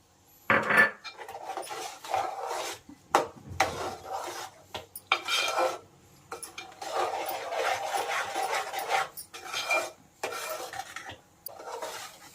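A sweet mixture being stirred in a pan over a low flame, with repeated close scraping and rubbing strokes of a spoon against the metal, separated by short pauses.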